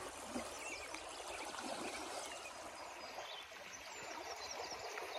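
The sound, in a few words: river stream flowing while hiker fords it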